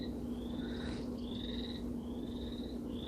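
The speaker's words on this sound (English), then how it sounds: "my bullfrog friend has another friend." Bullfrogs croak in the distance at a steady pace over a constant low hum, fairly faint and with no talking.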